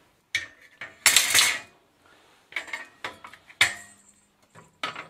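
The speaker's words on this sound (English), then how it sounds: "if I take off these two bolts, the whole carrier should come off" Bolts being taken off a bicycle carrier, heard as a run of sharp metallic clinks, rattles and ratcheting taps in separate bursts with quiet gaps between them.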